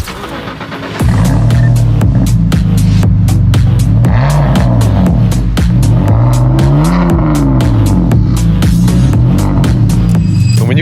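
Loud, throbbing petrol exhaust of a BMW E60 with its exhaust flap open burbles up close, revving up and dropping back repeatedly with a deep, raspy rumble.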